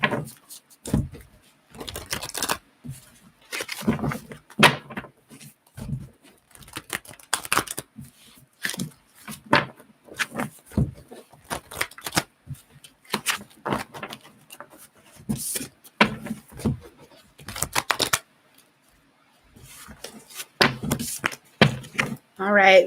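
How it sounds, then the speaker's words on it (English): Tarot cards shuffled by hand during a horoscope reading, a run of quick papery riffles and taps in irregular bursts across the span, close and fairly clear, with brief pauses between shuffles and no talk over them. "Get a few shuffles."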